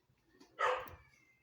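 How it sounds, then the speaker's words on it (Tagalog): A single short dog bark rings out at moderate distance, brief and sharp, with quiet background before and after. "Maingay na naman yung aso"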